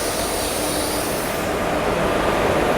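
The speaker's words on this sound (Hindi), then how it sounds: "यहाँ खड़गपुर का WAP4 लोकोमोटिव हमारी गीतांजलि एक्सप्रेस को लेकर के आ रहा है।" A Kharagpur-based WAP4 electric locomotive pulls the Gitanjali Express into a station platform, giving a steady, loud rumble of rolling wheels and traction noise that holds even throughout, with no voices.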